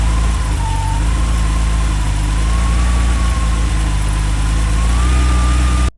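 A 1986 Porsche 911 Turbo with a 3.3-liter flat-six, close and loud, settles into a steady idle with a deep rumble and a faint whine wavering above it.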